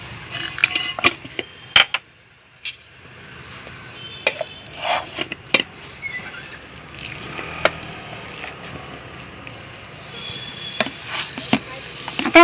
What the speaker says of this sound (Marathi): आपण बटाटे मॅश करून घेऊ।